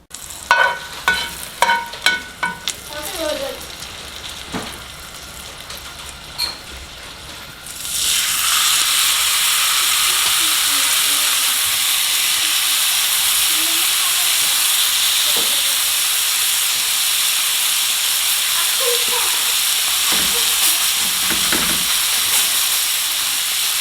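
Garlic drops into hot oil and bursts into a loud, steady sizzle and hiss that carries on without a break, preceded by a few knocks and scrapes of stirring in the pan.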